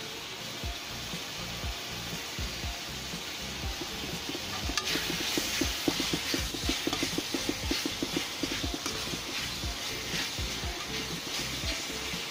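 Chicken curry with salt and spices being stir-fried in a pan, a steady broadband sizzle under repeated scraping strokes of a spoon, louder and busier in the second half, no talking.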